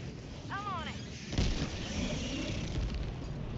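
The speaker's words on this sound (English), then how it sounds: "that's a big explosion" A big explosion in the video game Helldivers 2 booms into a loud, rumbling roar that lingers, preceded by a short whistling sweep and mixed with game sound effects.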